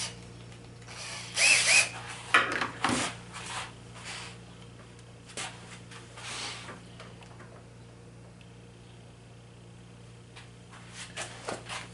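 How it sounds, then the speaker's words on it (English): Lag bolts power-driven into wood while building a drawing board, short bursts of driving and rubbing noise early on, then quieter intermittent scraping, close by with no speech. "So I got some lag bolts for that, and we'll just power them in."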